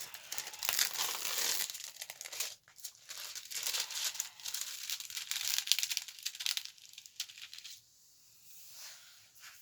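Plastic protective packaging from a clothing unboxing, crinkled and smoothed out by hand in close, continuous rustling bursts that ease off and turn quieter near the end.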